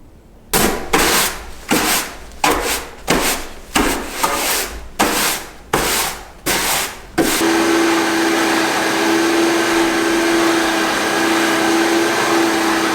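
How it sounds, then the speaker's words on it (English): A shop vac runs over the wooden floor of a portable building, first in a series of rhythmic back-and-forth strokes with scraping swishes, then settling into a steady, loud continuous whine with a constant tone. "then I'm going to vacuum it all with my shop vac"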